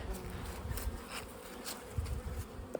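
Honey bees from small salvage colonies drone in a continuous, close, even buzz while being merged up into a top hive box.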